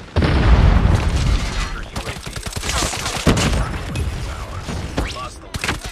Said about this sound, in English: Kena nuklir ini